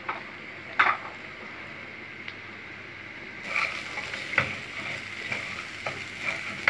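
Lentils, vermicelli and rice stirred and fried in a pot for koshari, giving a steady close sizzle with a few sharp scrapes and clinks of the spoon against the pot.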